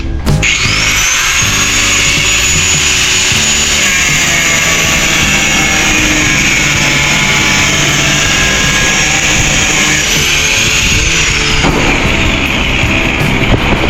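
An electric grinder runs loud and steady at a house construction site where roof trusses are being installed, its high whine holding for nearly fourteen seconds without a break.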